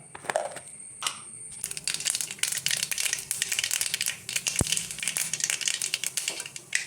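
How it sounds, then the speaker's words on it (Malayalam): Quiet, irregular crackling and popping of mustard seeds spitting in hot coconut oil, with a sharp clink partway through. "കടു പൊട്ടി"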